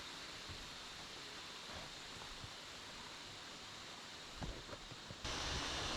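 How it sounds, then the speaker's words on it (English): Water flowing steadily through a rocky creek in the Australian bush, a constant broadband rush with a few faint knocks, growing louder and closer in the final second. "Lots of water flowing though."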